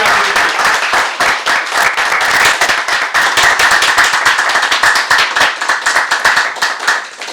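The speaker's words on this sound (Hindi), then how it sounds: "जोरदार तालियां" A seated audience at a business seminar bursts into loud, sustained applause, a dense wash of many hands clapping close by for over seven seconds with no voices on top.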